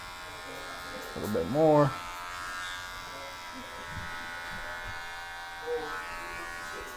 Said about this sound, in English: I'm just going to flick my clipper lower and lower until it meets that 0 on the lever